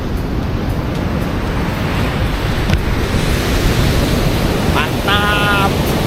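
Strong surf and a fast current at Batu Karas beach on the south coast of Java roar in a loud, continuous wash of waves, mixed with heavy wind buffeting the microphone.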